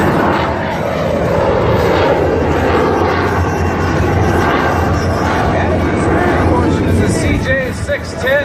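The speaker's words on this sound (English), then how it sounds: "Jet engine strapped to the bottom of this airplane." A loud vintage airplane with a jet engine strapped beneath it roars steadily overhead at an air show at MacDill Air Force Base, Tampa, a continuous droning rumble that stays strong throughout with faint crowd noise beneath.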